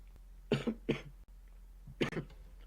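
A man coughs three times, two close together then one after a pause, near and alone with a faint hum behind, during a live broadcast on a Northeast snowstorm.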